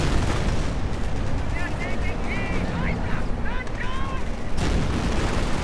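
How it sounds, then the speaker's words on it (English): Machine gun fire rattles through a World War II strategy game battle with Shermans and Panthers, a dense continuous clatter of shots and distant blasts under game noise, with scattered whistling tones over it. "And the engineers are suffering under quite a bit of machine gun fire."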